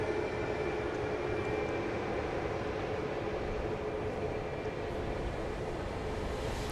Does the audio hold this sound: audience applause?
no